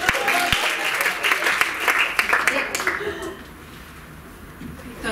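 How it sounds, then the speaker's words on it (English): Students in a classroom applaud a classmate, a brisk burst of many hands clapping that fills the first three seconds before thinning out and fading, with a few scattered claps and murmurs after. "We can give a round of applause to Amy."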